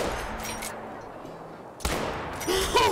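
Shots ring out at geese during a goose hunt in the video game Call of the Wild, with sharp bursts of gunfire, a quiet stretch, then loud reports and game bird calls close up.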